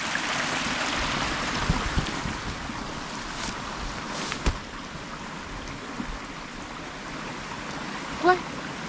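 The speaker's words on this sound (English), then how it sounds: "Beautiful waterfall here." Steady broadband rush of a waterfall along a remote trek route, a continuous wind-blown roar with no pauses and a few brief knocks over it.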